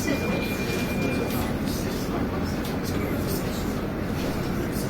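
A STIB/MIVB CAF Boa subway train runs between Schuman and Kraainem, heard from inside as a steady, loud rumbling roar with broadband rail noise throughout.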